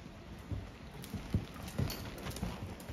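A horse at a working lope in a western dressage arena produces soft, muffled hoofbeats in a steady rolling three-beat rhythm on arena footing, fairly faint with no talking.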